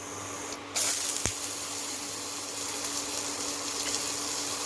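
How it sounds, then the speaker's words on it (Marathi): Onion and dried coconut slices roast in a little oil for a Maharashtrian drumstick dry vegetable dish. A steady, close frying sizzle starts abruptly and carries on alone without a break. "आता आपण एक कांदा आणि खोबरं भाजून घ्यायचं चांगलं."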